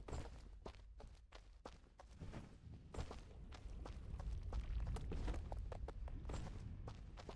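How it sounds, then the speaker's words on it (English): Footsteps in the side-scrolling action game Dust: An Elysian Tail, a quick irregular patter of soft thuds over a low background hum, faint but steady across the stretch. "I was jumping, but there were footstep sounds."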